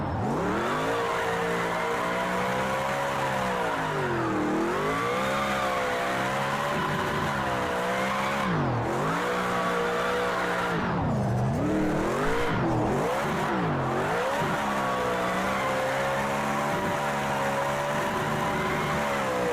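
A drift car in the video game Project CARS 2 pulled into a handbrake slide, its engine droning and revving in rising and falling sweeps, tyres scrubbing, loud and continuous throughout.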